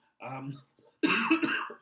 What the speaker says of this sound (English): Holy smokes, I'm having a coughing fit.